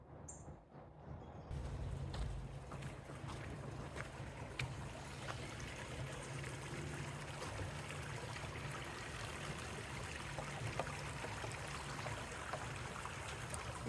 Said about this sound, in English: It's a babbling brook.